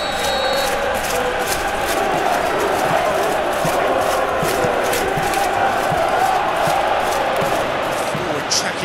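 A stadium crowd in the PES 2018 football game keeps up a loud, continuous roar of cheering throughout, dense and unbroken, with no talk over it.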